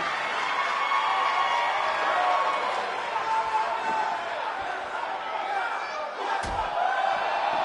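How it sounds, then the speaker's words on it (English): A large, sold-out arena crowd in a wrestling video game roars and cheers in a steady wash of noise beneath a voice that talks over it, with a sharp slam near the end. "We have a sold-out, record-setting crowd here for BCW tonight."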